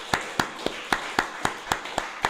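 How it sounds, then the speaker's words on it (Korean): A church congregation claps in a steady, even rhythm at a Sunday worship service, with about nine sharp, evenly spaced beats at close range and no talking over it. "다시 한번 박수 하십시다"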